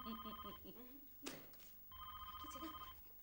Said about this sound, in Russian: Телефон, телефон, куда я его делала?